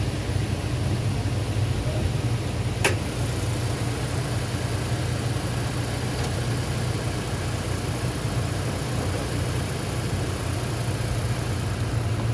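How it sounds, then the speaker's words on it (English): A Toyota Tacoma pickup engine idles steadily and evenly at close range, a constant low rumble with no revving, after an oil change. "now that we got the engine running for a while"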